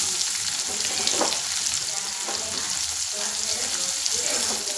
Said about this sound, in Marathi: मस्त तेल टाकले, मोहरी टाकते, जिरं टाकते, हे लसूण, कढीपत्ता आणि इकडे बघा कांदे टाकते थोडे